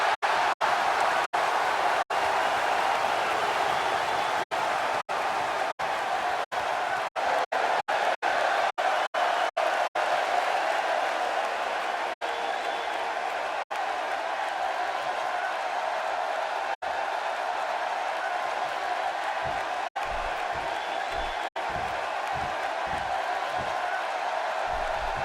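Arena crowd noise from the WWE 2K16 video game fills the background as a steady, dense roar of cheering and applause during a six-man tag team match, with brief digital dropouts breaking it up.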